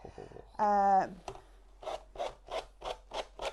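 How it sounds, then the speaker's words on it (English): A sanding block is pushed along the edge of a napkin in a series of short, evenly spaced rasping strokes, close and fairly quiet, after a brief squeaky scrape. "I'm using a sanding block now to push away from myself"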